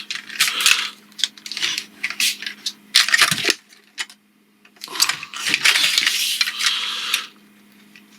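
Plastic parts of an X-Transbots Gravestone Transformers figure click, clack and rattle in bursts as pieces are folded and shifted, loud and close with brief pauses.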